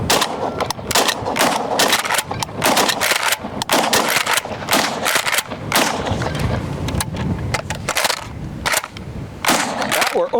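Rapid, continuous volleys of close, loud pump-action shotgun blasts fired at targets, with shots crowding one another throughout and the racking of the pump mixed in.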